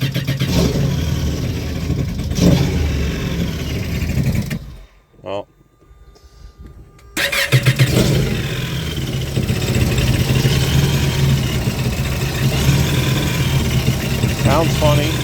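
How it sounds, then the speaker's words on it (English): A 2023 Yamaha WaveRunner personal watercraft engine drones steadily and loudly, then drops out for a couple of seconds before starting up again and running on, while people talk over it. "I don't know if the engine's going to start."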